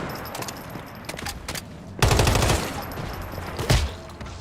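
Bursts of automatic gunfire in the video game Once Human, scattered quieter shots giving way to a loud, sustained volley at the midpoint and another sharp burst near the end.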